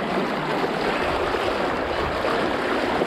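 A strong river current rushes past a handmade bamboo raft drifting downstream through rural countryside, a loud, dense, unbroken roar of moving water filling the whole moment with no voices.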